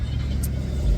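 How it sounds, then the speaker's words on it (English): A car rumbles past nearby on a busy road, a loud low steady engine roar that swells slightly toward the end of the brief moment. "It is so loud. All the cars."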